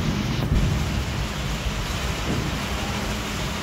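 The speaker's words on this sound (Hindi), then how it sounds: "देखिए बाहर बारिश हो रही है।" Evening rain falls outside in Assam, a dense, steady downpour with some wind, loud and close throughout.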